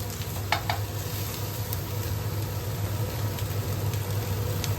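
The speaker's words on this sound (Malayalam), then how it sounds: "ഇനി നമുക്ക് നമ്മുടെ റൈസ് മൊത്തം ഇട്ടിട്ട് ഒന്ന് ഇളക്കാം." Rice tossed with capsicum in a hot pan gives a steady, close sizzle under a low hum, with a couple of brief scraping clinks from the stirring.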